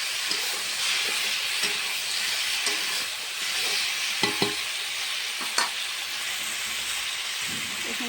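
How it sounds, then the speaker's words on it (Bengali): Taro stems frying in a pan while being stirred, a steady close sizzle broken by occasional sharp scrapes and clinks of the spatula against the metal. "কচুর বইটার ডাটাটা ভালো করে ভেজে নেব এখানে"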